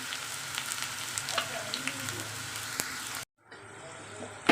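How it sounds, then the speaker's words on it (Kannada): Chopped onions fry in a little oil after mustard seeds, roasting until brown with a continuous close crackling sizzle that cuts off abruptly near the end, followed by a quieter hiss. "ಈರುಳ್ಳಿ ಸ್ವಲ್ಪ ಎಣ್ಣೆಯಲ್ಲಿ ರೋಸ್ಟ್ ಆಗಲಿ, ಬ್ರೌನ್ ಕಲರ್ ಬರಲಿ ಸಾಕು ಈರುಳ್ಳಿ."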